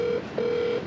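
A telephone tone sounds during a redial, a short steady beep broken by a brief gap and then resuming, moderately loud and alone without talk.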